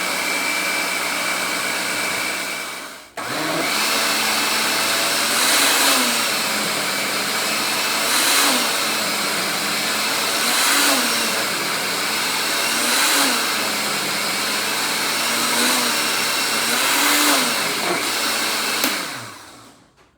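A blender whirs continuously, churning cream into homemade makhan (butter), starting after a short pause and running loud and close with a steady drone that swells and dips in regular cycles before cutting off near the end.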